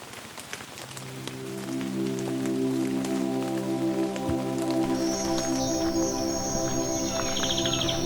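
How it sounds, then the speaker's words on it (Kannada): The year's first monsoon rain pours down on the road to South Goa, a dense, continuous patter of drops on surfaces. It grows louder after the opening second, with a low steady hum running underneath. "ಈ ವರ್ಷದ ಮೊದಲ ಮಳೆ."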